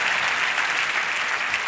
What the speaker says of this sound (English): Let's clap it up for the hustle.